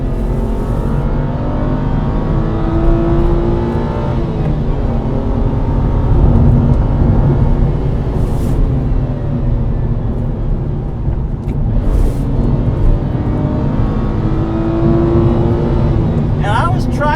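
A BMW N52 inline-six in an E90 328i with an upgraded exhaust is revved hard, its loud, continuous engine roar climbing and falling across repeated pulls toward 7000 RPM, close and dominant throughout.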